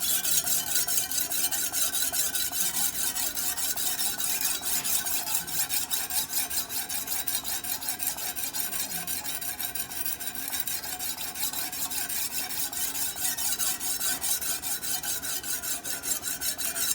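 Knife blade scrubbed back and forth on the stones of a Wicked Edge Commercial Series sharpener, a steady continuous close rasping that holds evenly throughout with no voices.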